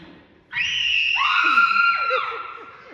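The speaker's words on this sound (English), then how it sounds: "I bet I can scream louder than you." A child screams loudly and at length during a school play, one sustained high shriek that bends and trails off at the end, close and piercing over a quiet stage.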